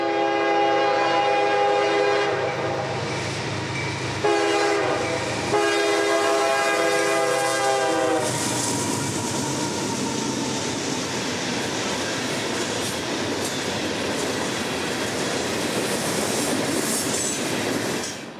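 CSX freight train M521, Nashville to New Orleans, pulled by three locomotives on the M&M Subdivision: a loud sustained multi-tone horn with a brief gap, then the heavy rumble and clatter of wagons rolling past nearby.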